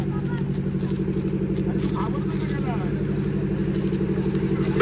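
Road traffic on a family pilgrimage trip: a steady rumble of car and motorcycle engines, with a voice speaking over the continuous engine drone.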